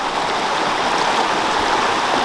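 A flowing stream, steady rushing and bubbling water, loud and close, continuous with no other sounds.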